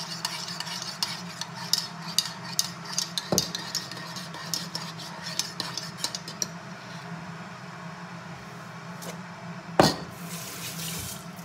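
Water runs and splashes steadily into a pan of cabbage rolls in a kitchen, with scattered clinks of utensils against cookware and a louder clatter near the end.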